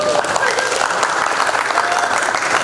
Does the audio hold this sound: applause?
yes